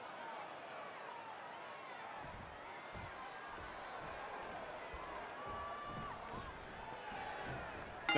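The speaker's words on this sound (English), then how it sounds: "Sounds to me like this Saginaw crowd is fired up for this one." A fired-up arena crowd in Saginaw at an AEW Rampage wrestling show: a steady, roomy roar of cheering and chatter with scattered dull thumps, holding at an even level throughout.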